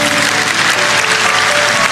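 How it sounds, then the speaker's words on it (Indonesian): A church congregation at an Indonesian worship service gives a dense, loud round of applause. The clapping is continuous and close throughout, with no voices above it. "kita berikan tepuk tangan untuk Tuhan."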